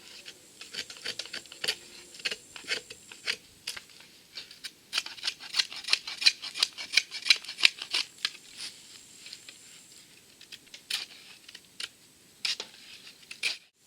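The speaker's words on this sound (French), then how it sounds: "si on cherche à faire des copeaux, le fil de la lame va rentrer profondément dans le bois" A knife blade bites deep into wood to carve off thick chips, making a quick series of sharp, close scraping clicks in uneven bursts with no talking.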